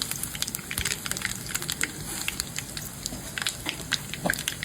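Cumin, chana dal and mustard seeds sizzling in hot oil, a steady close crackle with rapid popping and spitting of seeds throughout, no voices.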